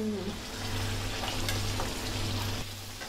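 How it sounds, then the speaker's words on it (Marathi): Jackfruit vadas go into hot oil over a low flame and fry with a soft, steady sizzle and bubbling close by, fairly quiet, with no talk. "मी आता तेल तापला तसा मी बारीक गॅस केल्याने ह्यो वडो सोडलंय, त्याच्या लागलीच दुसरो पण सोडलंय"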